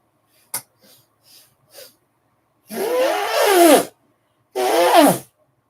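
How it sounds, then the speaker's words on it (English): A sniff and a few soft snuffles, then two long, wet, forceful nose blows, the second after a short pause, close and loud. "I need to blow my nose again"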